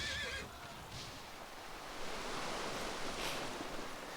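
A horse in a pirate-themed video game whinnies with a short, wavering neigh at the start, followed by a steady wash of noise like surf that continues to the end.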